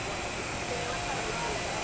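A Willemin Macodel 408MT CNC machine blasts air to clear a machined part and its vise, producing a loud continuous hiss that fills the whole moment.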